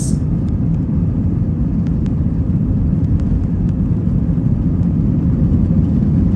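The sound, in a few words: airplane taking off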